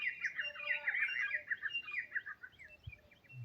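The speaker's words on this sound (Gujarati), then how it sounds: "મસ્ત મજાના પશુ પક્ષી છે ને કિલોલ કરે છે" Birds chirp and tweet continuously in a cold early-morning village setting, many overlapping high calls at moderate distance with no talk, a soft low thump near the end.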